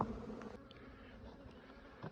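A low buzz of honey bees hums steadily throughout, close and moderately quiet, with a few faint knocks in the background.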